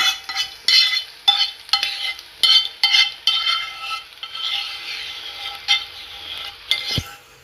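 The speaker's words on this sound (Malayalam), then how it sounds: "നന്നായിട്ട് എല്ലാം കൂടെ മിക്സ് ചെയ്യാം" Pasta being stirred through white sauce in a pan, with repeated scraping and clinking strokes of a utensil against the metal in a steady rhythm, close and moderately loud, alone without talk.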